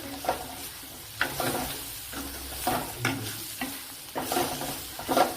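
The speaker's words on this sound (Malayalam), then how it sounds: "അപ്പോൾ സവാളയൊക്കെ നല്ലതുപോലെ ഇതേപോലെ വഴറ്റിയെടുക്കണം" Onions and a large tomato sauté in a pan, an even sizzle broken by regular scraping stirs that recur every second or so, close and without talk.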